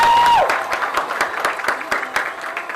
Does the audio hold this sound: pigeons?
no